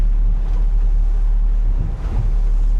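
A Tasman 80 boat's diesel engine idles around 500 RPM while pushing into big waves and tide in Bass Strait, Australia, a low steady rumble under wind buffeting and water wash.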